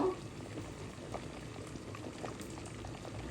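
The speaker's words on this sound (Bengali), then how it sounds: "বলক চলে আসছে" Pulao cooking liquid with chicken-frying oil added, boiling steadily in a pot, a quiet continuous bubbling and popping heard up close with no talk.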